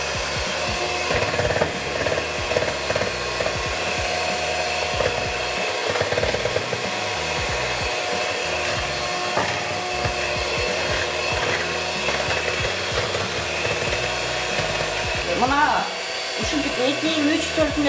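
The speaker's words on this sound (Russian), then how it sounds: "Эки, үч, төрт мүнөттүн ичинде миксер менен баарын эзип алдык, аралаштырып." An electric mixer beats cake batter for a homemade cake with a continuous, loud whirring drone, steady throughout with slight scraping variations.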